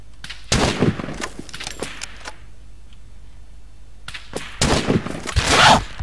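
Gunfire in the survival video game Rust cracks in two loud bursts of rapid shots separated by a quieter gap, with faint clicks in between and no talk over it.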